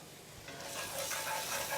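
Chopped onions sweating with salt in a pan for a bacon, blue cheese and sage cream sauce, giving a steady, moderately loud sizzle that builds slightly, with faint stirring and no talking.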